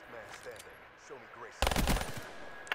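Rapid gunfire bursts in an online shooter video game match, a sudden loud automatic volley after quiet moments of talk, then a single late shot.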